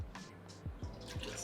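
Howler Head whiskey is poured into a glass, a faint, short run of liquid trickling and splashing, heard close and quiet.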